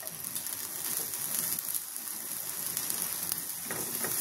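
Garlic and onion sautéing in a pan, a steady bright sizzle and crackle running throughout at moderate level, with a few light stirring scrapes and no talking.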